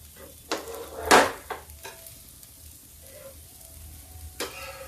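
Sweet chilla batter cooking in a pan, a faint sizzle with a few sharp spatula scrapes and taps, sparse and close.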